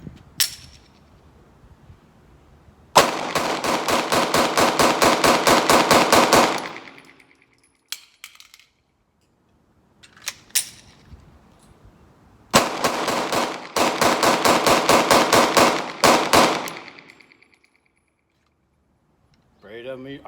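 A Glock pistol loaded from Shield Arms magazines fires Fiocchi 115 grain rounds in two long, rapid, evenly spaced strings of loud close shots, each several seconds long, with a few scattered single shots between and after.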